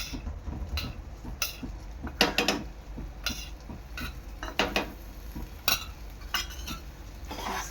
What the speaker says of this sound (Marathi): चांगला मिक्स करून घ्यायचा आहे गूळ